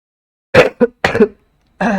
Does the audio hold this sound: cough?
yes